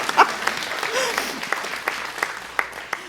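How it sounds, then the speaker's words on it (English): A church congregation claps briefly, scattered and fairly sparse with a few sharp individual claps standing out, with a voice faintly heard under it. "You can clap for that."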